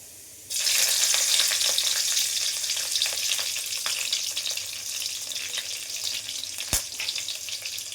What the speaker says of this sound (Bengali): তেলটা কিন্তু আমার গরম হয়েই গেছে, এর মধ্যে আমি দিয়ে দেব কালো জিরে আর হচ্ছে কাঁচা লঙ্কাটা